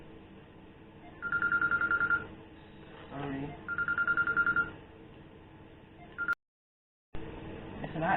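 A telephone rings in short repeated electronic bursts, two clear rings with a pause between, moderately loud, with a brief spoken word and some background sound around them.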